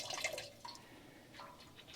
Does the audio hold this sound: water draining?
yes